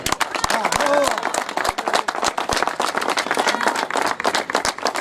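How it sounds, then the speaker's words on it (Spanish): Audience at a provincial games podium ceremony applauds the third-place finisher with dense, brisk clapping throughout, while an announcer talks over it. "Tomás Pelletier, un fuerte aplauso"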